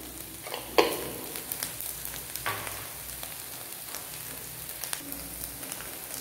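Whole cumin seeds sizzle in hot oil in a wok: a steady, fairly quiet crackling hiss scattered with small pops, with no talking.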